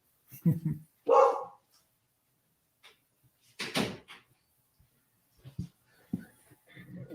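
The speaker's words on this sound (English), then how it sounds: "Hopefully my dog is not too loud." A dog gives a couple of short indoor barks during a live online talk, followed by a cupboard-like door thump, with someone speaking in between and long quiet gaps.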